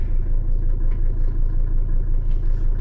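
A 1984 Mercedes-Benz 300SD turbo diesel idles with a steady, close, low rhythmic clatter and rumble, even and unbroken throughout.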